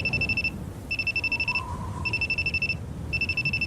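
A phone in the video game Aoi Tori rings in repeated electronic trilling bursts, four evenly spaced rings with short gaps, clear and close over a low background hum.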